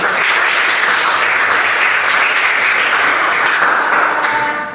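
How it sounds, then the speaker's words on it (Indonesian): Sustained applause from a crowd, dense steady clapping that fades slightly at the end. "tepuk tangan buat Mas Ahmad."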